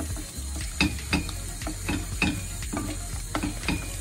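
Corn starch toasting in extra virgin olive oil in a pan for a light béchamel, a steady sizzle broken by regular stirring scrapes about every half second, close and clear with no voices.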